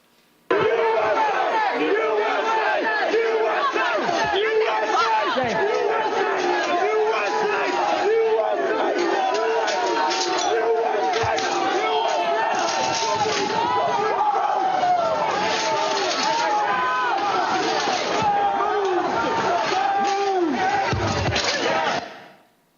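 A crowd of rioters breaches the Peace Circle police line at the US Capitol on January 6, a dense, loud roar of shouting and chanting that runs continuously for about twenty seconds before cutting off.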